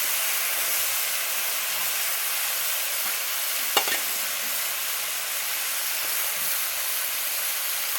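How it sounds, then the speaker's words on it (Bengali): Potato, carrot and vegetable stalks stir-fried in a pan give a steady, fairly loud hiss and sizzle throughout, with one brief sharp scrape or clink near the middle. "আলুটা, গাজরটা, ডাঁটাটা ভালো করে কষে নেবো।"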